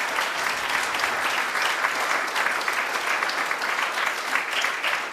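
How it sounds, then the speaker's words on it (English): Audience applause at a youth programme's anniversary debate event, a sustained even wash of many hands clapping at moderate loudness with no break. "give them a big round of applause"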